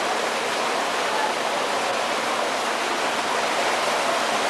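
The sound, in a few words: constant running water in a walleye fish hatchery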